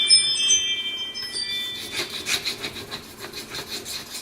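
A ZDP-189 steel knife is worked across a fine whetstone, giving a steady run of close, gritty rubbing strokes. Thin ringing tones fade out in the first moments.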